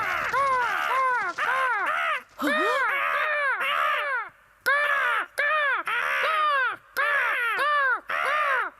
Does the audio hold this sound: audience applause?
no